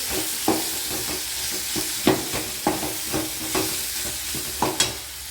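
Tempering spices fry and sizzle in hot oil for a tomato chutney, with a steady close crackle broken by regular scraping strokes of a stirring spoon and no talking.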